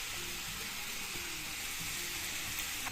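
Bell peppers sautéing in oil in a pan, a steady close sizzle and crackle of frying vegetables running throughout.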